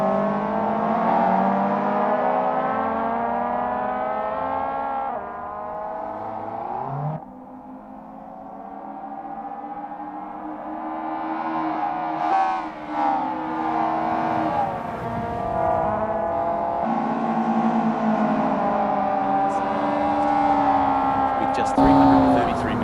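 Mazda Eunos Roadster touring race cars in the Assetto Corsa racing game drone through steady revving engine notes with gear shifts and occasional tire squeal as they lap, under continuous commentary.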